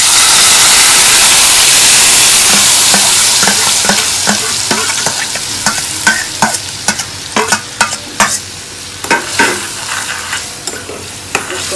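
Asafoetida and spice paste for dried-pea chole hit hot oil in a pan with a loud, intense hiss that gradually settles into a steady sizzle, broken by rhythmic stirring scrapes as the spices fry.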